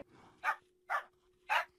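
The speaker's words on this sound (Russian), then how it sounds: "Он гавкает!" Three evenly spaced, clipped barks from a dog in the video game Minecraft ring out alone against a quiet background hum, each short and fairly loud.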